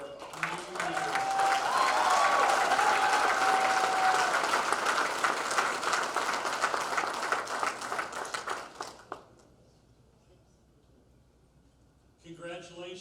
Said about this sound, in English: could we have another round of applause for this amazing